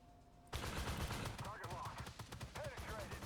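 Rapid bursts of automatic gunfire from a Rosomak armored vehicle in a combat video game ring out loud and close, with dense repeated shots and mechanical clatter.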